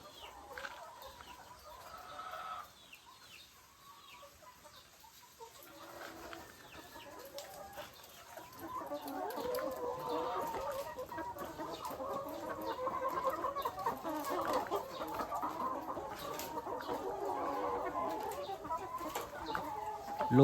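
Layer hens in a poultry building cluck and cackle, quiet at first, then a dense, continuous chorus of many birds swells and carries on steadily.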